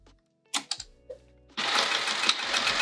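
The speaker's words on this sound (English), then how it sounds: "let's sew this together." A home sewing machine stitching sling fabric runs in a steady, close whirring stretch after a few clicks and taps of setting the work in place.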